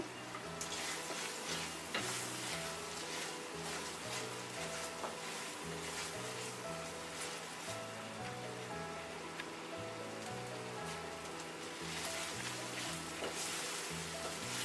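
Onions and three or four bay leaves fry in oil for a wedding-style roast, a steady crackling sizzle throughout with low rhythmic music playing underneath.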